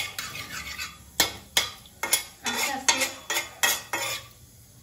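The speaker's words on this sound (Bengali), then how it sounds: "কালো জিরেটা আমি একটু ভেজে নেবো।" Nigella seeds fry in oil and a metal spoon stirs them, giving a series of sharp scrapes and clinks against the pan over a faint sizzle, with a few quiet spoken words.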